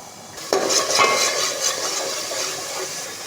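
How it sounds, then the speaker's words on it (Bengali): Ash gourd being sautéed with salt in a pan, a steady, close stirring and light frying hiss that starts with a soft clatter and runs on evenly with no talking. "একটু কষিয়ে নেব।"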